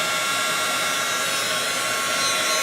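Blow dryer running steadily at close range during a grooming trim, a continuous loud whirring rush with no pauses.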